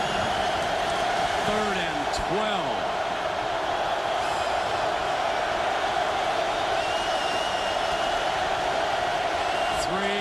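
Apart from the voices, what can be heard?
football stadium crowd cheering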